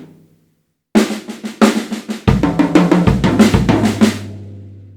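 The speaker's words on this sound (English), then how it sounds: "2 paradiddles and a bass drum, and then 4 notes up here." A drum kit plays close and loud: quick alternating snare strokes in two paradiddles, then booming bass drum hits joined by four tom notes, ending with a ringing decay.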